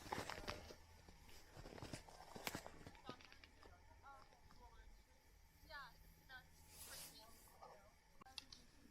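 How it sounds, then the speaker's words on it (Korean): Hikers' footsteps crunching down a snowy trail on Mt Seymour near Vancouver, snowshoeing with a dog alongside, a patter of steps passing fairly near amid outdoor ambience, with people talking over parts of it. "조금 전에 캐네디언 두 사람이 내려가서 이 발자국 소리 때문에 다시 잠시 멈추고"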